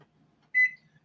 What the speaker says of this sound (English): let's set the timer